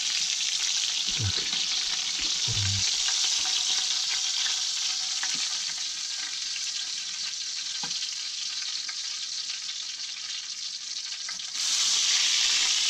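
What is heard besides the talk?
fish frying in a pan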